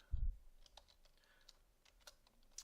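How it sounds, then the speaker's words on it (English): Keystrokes on a computer keyboard while entering C++ code in Visual Studio: a loud thump at the start, then a few soft, scattered key clicks, close and faint, with no talking. "And then I'm going to type a semicolon right there."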